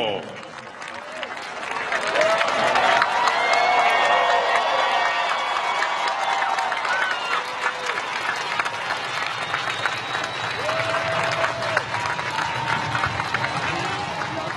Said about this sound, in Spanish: Los músicos acaban de arrancar los aplausos